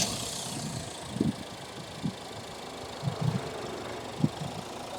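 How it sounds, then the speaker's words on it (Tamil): Mahindra Thar Roxx five-door SUV engine idling, a low steady rumble heard from inside with a few soft thumps, quiet and even. "இப்போ இன்ஜினை ஸ்டார்ட் பண்ணி பார்க்கலாம்"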